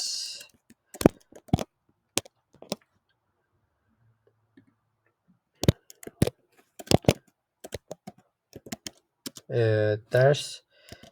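PHP code being typed on a computer keyboard, with scattered bursts of crisp key clicks separated by pauses. A short spoken phrase comes near the end.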